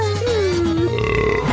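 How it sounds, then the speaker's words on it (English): A cartoon child burps in a restaurant, one drawn-out, loud belch with a gliding pitch that lasts over a second, heard up close. "Boys, no, it's not a competition to see who can burp the loudest."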